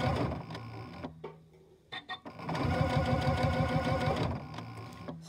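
A sewing machine with a zipper foot stitches piping, running in rapid rattling bursts separated by short pauses and a few clicks, close and clear.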